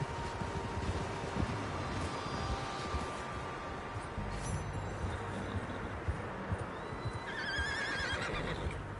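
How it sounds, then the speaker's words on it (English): Horses in a video game whinny and clop their hooves. The sound is fairly quiet and steady. Soft rumbling ambience runs underneath, and a thin neigh rises near the end. "Horses, quite a few of them."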